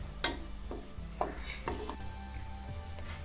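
Wheat grains being stirred and dry-fried in a pan over a medium flame for a Tamil karupatti wheat laddu, with scattered scraping and knocking strokes of the spoon against the pan under a steady low hum.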